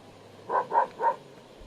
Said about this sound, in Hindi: किसको भौंक रहा है? गाय को भौंक रहा है?